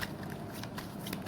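Tarot cards shuffled in a brief, quiet burst of riffling and soft papery flicks, close by and without speech.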